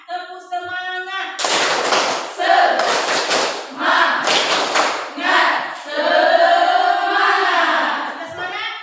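Students standing in a classroom repeat the tepuk semangat cheer, punching out tight groups of synchronized hand claps between loud group chanting, the pattern rising to a drawn-out shouted finish.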